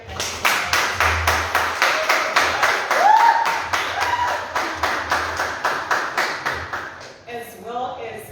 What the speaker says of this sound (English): Please may we clap her hands.